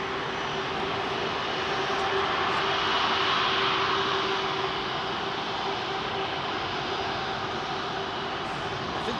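Boeing 787 Dreamliner jet at London Heathrow, a loud sustained engine roar with a steady tonal whine, swelling slightly and then holding, close and continuous with no voices.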